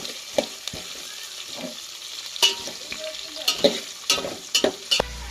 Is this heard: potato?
yes